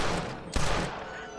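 Gunfire from a Red Dead Redemption shootout at Fort Mercer, heard as a sharp close shot amid a dense, continuous roar of battle noise.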